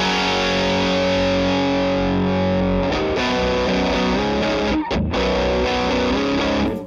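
Distorted electric guitar through an Orange amp simulation in AmpliTube 5, played into a 4x12 cabinet: loud, thick sustained chords with heavy low-end rumble, shifting chords and a brief gap near the end.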